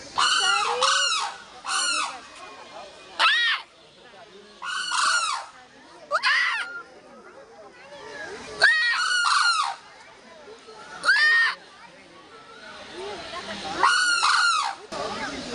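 Loud, harsh, repeated peacock calls sound in bursts every second or two at a zoo in Mysore, with a softer wash of other bird chatter between them.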